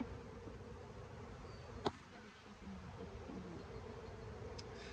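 Honey bees humming around an open hive during an inspection, a soft continuous buzz with one sharp brief knock partway through.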